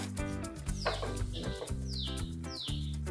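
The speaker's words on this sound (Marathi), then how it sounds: "पण पक्ष्यांची चिवचिव किती गोड वाटते ना ऐकायला" Birds chirp outdoors near a home kitchen while thalipeeth bhajani dough is being made. A few quick descending tweets cut through steady background music.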